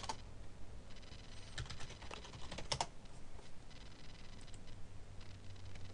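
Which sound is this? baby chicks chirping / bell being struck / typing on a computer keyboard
typing on a computer keyboard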